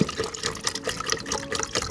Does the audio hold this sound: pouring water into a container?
yes